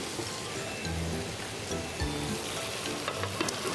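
Butter chicken masala fries in oil in a pan with a soft, continuous sizzle, close and fairly quiet, with occasional light knocks and stirring sounds.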